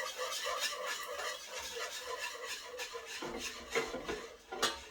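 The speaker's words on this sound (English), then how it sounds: "So I am actually going to whisk, whisk, whisk, whisk, whisk." A whisk scrapes and taps quickly around a measuring cup of milk, a fast rhythmic clatter of metal against the cup, fairly faint and close, with a few sharper knocks toward the end.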